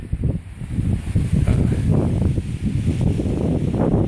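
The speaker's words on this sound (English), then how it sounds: "Probably hear the wind blowing." Wind gusts through rain-soaked woods in a loud, steady low roar with buffeting against the microphone, continuous throughout.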